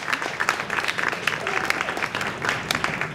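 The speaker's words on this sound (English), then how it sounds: "Please give a big round of applause for Terrence Blackman" Audience at a university math lecture event applauding to welcome a speaker, a brisk few seconds of many hands clapping close by with some murmured voices underneath.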